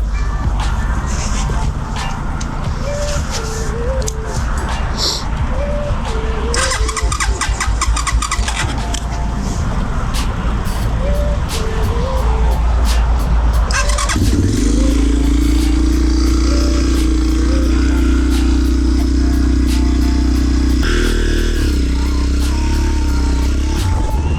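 A KOVI 250 Advance 2023 enduro motorcycle with a 171FMM engine cranks and catches, then runs and revs. It settles into a loud, steady idle with a rise in the later part, heard up close.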